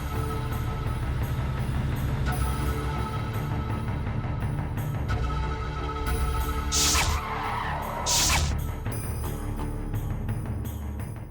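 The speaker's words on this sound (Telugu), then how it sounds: "ఏదో కారు వస్తుంది." A car drives up along a road and brakes to a stop, tyres skidding with a sharp screech late in the approach, over a steady background bed of music.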